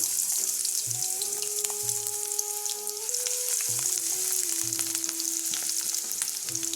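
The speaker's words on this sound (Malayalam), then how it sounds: "അപ്പോൾ എണ്ണ തിളയ്ക്കുന്നുണ്ട്. അപ്പോൾ നമ്മുടെ എണ്ണ നന്നായിട്ട് ചൂടായിട്ട് വന്നിട്ടുണ്ട്. ഇതിലോട്ട് അരിഞ്ഞ് വെച്ചിരിക്കുന്ന കത്തിരിക്ക ഇട്ട് കൊടുക്കാം." Chopped brinjal fries in hot oil for a Kerala-style dish, a loud, constant crackling sizzle with scattered pops, accompanied by a sustained tonal hum in the background.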